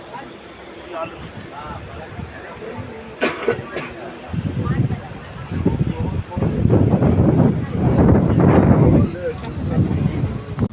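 Strong wind buffets and roars across the microphone in gusts from a train in hilly country between Erode and Shoranur, growing louder toward the end, with a voice talking underneath.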